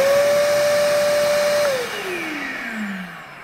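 A $90 Stealth 5.5 HP wet/dry shop vacuum runs with a steady, loud motor whine, then winds down as it is switched off, its pitch sliding lower over the last second or two.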